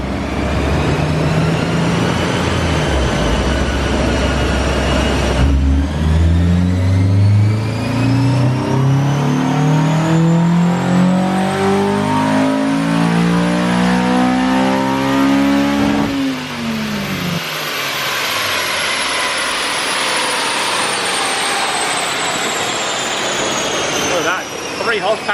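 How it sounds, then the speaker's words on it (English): A Honda S2000 with a tune, intake, test pipe, exhaust and stock header accelerates hard through gears one to four. Rising engine pitch repeatedly climbs and drops at each shift, loud and close, with some talk mixed in. "This is what we call the ricer run, where we go through the gears like 1 through 4"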